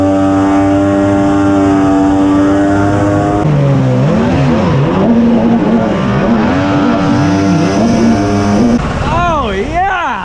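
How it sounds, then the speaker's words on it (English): An aluminum jet boat powered by a jet ski engine runs on a river, its loud engine droning steadily close by, then rising and falling in pitch as the throttle is worked, with some talk under it. "we got the riverboat in the river right now"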